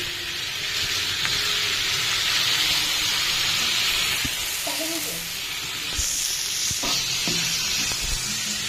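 Bitter gourd fries with onions in a pan, a continuous loud sizzle with occasional spoon scrapes and stirring clatter close by.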